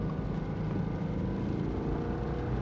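A car engine drones close and steady as the driver shifts into second gear, its low rumble holding through the change without a distinct rev spike.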